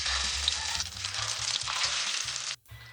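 Chicken shami kababs fry in a pan with a loud, steady close-up sizzle that cuts out briefly just before the end.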